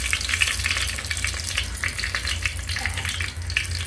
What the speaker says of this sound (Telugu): తాలింపు వేస్తున్నాం